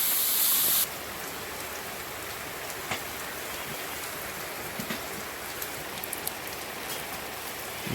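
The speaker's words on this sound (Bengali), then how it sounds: "ঝমঝম বৃষ্টি হচ্ছে" Heavy monsoon rain falls outside in the Sundarbans, a constant even patter and hiss with occasional sharper drips and no speech.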